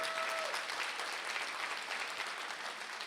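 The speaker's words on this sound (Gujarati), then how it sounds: "કલાકારો જે બધા અહીંયા પધાર્યા છે એમને પણ એકવાર તાળીથી સન્માનિત કરશું" A crowd at a London Gujarati lok dayro folk music event claps for the performing artists, dense steady applause heard at moderate distance, fading slightly toward the end.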